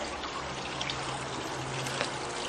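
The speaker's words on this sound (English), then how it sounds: "I think it's an 1100 gallon per hour pump, just a bilge pump right down there in the tray at the bottom" A small 1100 gallon-per-hour 12-volt bilge pump in a bottom tray sends water pouring steadily into the tray, a quiet, continuous splashing stream under a faint low hum.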